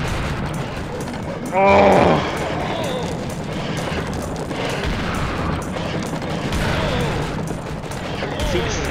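Gunfire from the co-op shooter Serious Sam: The Second Encounter, a dense continuous rattle of shots and booms under game noise, with a brief loud burst near the start and a voice exclaiming.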